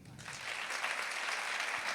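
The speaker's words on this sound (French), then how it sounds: "Vous pouvez l'applaudir." Audience applauding for a women's handisport world champion at an event, a steady wash of many hands clapping, fairly distant and even throughout.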